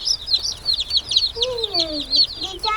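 Newly arrived Dark Cornish chicks peeping continuously in high rapid chirps, close and loud, while a person speaks softly partway through.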